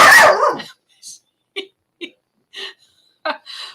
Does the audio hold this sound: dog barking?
yes